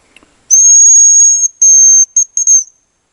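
A hazel grouse's high, thin whistle: one long drawn note, then several shorter ones in a broken series, clear and alone in a quiet taiga forest by a river.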